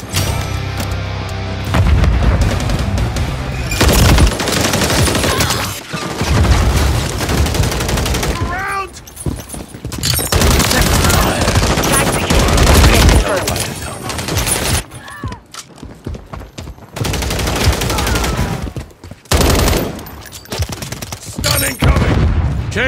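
Heavy gunfire in a Call of Duty Modern Warfare 3 multiplayer match: loud, near automatic bursts and booming shots come in long stretches with short gaps, mixed with occasional voice callouts.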